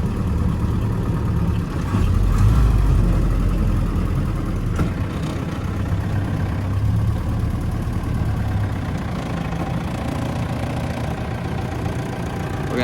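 A 1948 Willys Jeep CJ-2A engine runs steadily while driving, a loud, continuous low rumble with a brief swell early on and no talk over it.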